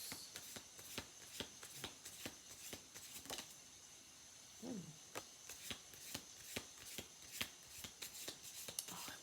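Trading cards flicked one after another through the hands, a quick irregular series of crisp snaps and slides, close and fairly quiet, with a short pause partway and no talking.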